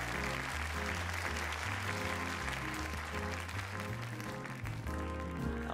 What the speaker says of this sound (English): Everybody, a round of applause.